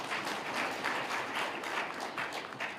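Audience applause at a regional state address event: a faint, distant wash of clapping from a crowd, steady with slight pulsing, continuing throughout without voices.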